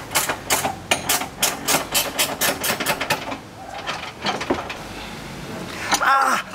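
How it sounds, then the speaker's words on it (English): A spanner drops and clanks repeatedly against a bolt on a car's front camber arm, with a fast run of sharp metallic knocks that thin out into scattered taps and end in a brief ratcheting scrape. "get some extra leverage for this bolt to tighten it up fully, is just put it on the end. Drop the spanner."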